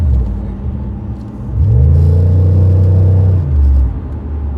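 A Dodge Cuda SRT widebody accelerates with a loud, close engine rumble whose tone climbs steadily over a couple of seconds and then drops back to a lower, idling growl.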